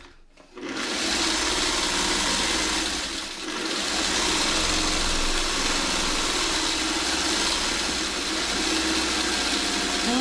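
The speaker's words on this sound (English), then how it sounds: "And now I'm going to give it a quick sewing." A sewing machine stitches a quilt block in one steady, continuous run, its loud, even mechanical whir holding from start to finish with no talking.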